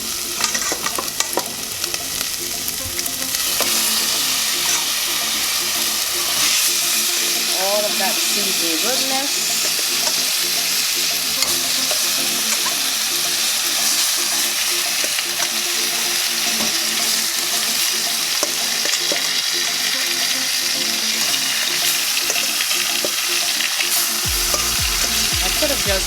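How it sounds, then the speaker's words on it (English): Chicken pieces frying and stirred in a seasoning base in a pot for home-style stew chicken, a steady close sizzle with scraping stirs and some running-water sounds, with a voice talking briefly over it. "this is the time where I'm gonna add the chicken, because I want the chicken to also saute up in this seasoning."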